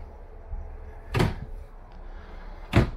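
Two solid cabinet doors inside a 2021 Grand Design Reflection 150 Series 240RL travel trailer bump shut one after another, each a sharp, close wooden knock with low rumble between.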